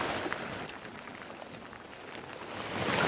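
Rain falling on a morning safari drive in the African bush, a soft steady hiss of drops heard at moderate distance that swells slightly toward the end, with no talking.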